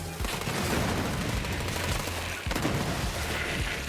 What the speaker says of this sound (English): You can see how the bullets are splitting, like, to everyone.